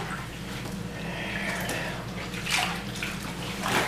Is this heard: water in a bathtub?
yes